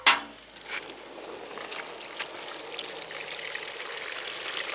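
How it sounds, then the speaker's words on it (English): Water trickles slowly into a GreenStalk vertical planter, starting with a brief splash and then settling into a soft, steady dribbling hiss that stays faint and close with no voices. "It's just like a real slow drip in there."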